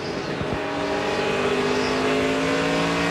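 NASCAR stock cars race in the 2005 Chevy American Revolution 400, their engines a steady, loud roar with a brief lower thump near the start and no talk over it.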